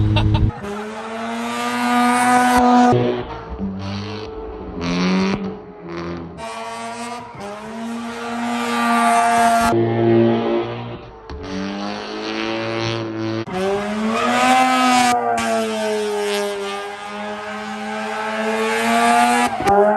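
Mazda RX7 with a loud custom valved exhaust, its engine droning and revving close by as it drives, pitch rising and falling through gear changes, sustained and dominant.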